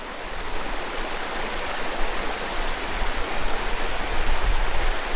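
A Sierra Nevada creek feeding a fishing pool from the side, a close, loud, steady rush of flowing water with no pause or voices throughout.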